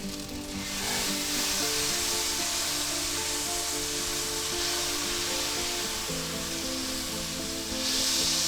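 Two tablespoons of butter sizzling in a hot pan for pan-seared pork tenderloin, a steady close crackling hiss that continues throughout with no talk.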